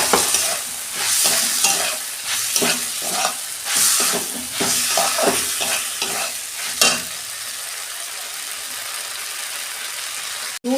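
Okra dropped into melted tomato in a pan for a mustard-and-poppy-seed okra curry, sizzling and frying while a spoon stirs in repeated scraping strokes for about seven seconds, then quieter steady frying alone.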